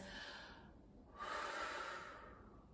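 Deep, steady breaths during a cardio and stretching workout, a long exhale tailing off and then a stronger, airy inhale swelling up, close and fairly quiet with no talking.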